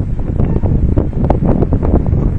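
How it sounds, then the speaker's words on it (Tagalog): Strong wind buffets the microphone in a steady, loud roar with rushing gusts throughout. "Lumalakas pa ang hampas ng hangin."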